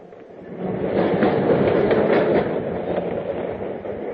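A subway train rumbles along as a radio drama sound effect, a loud steady roar of wheels on rails with faint clickety-clack rhythm that swells after a quiet start and holds throughout, with no voices.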